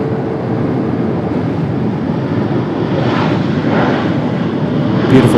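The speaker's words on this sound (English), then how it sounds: "Here comes a Delta from Atlanta, 737." A Delta Boeing 737 arriving from Atlanta roars steadily with broadband engine and wind rush, a continuous loud landing drone with no one talking.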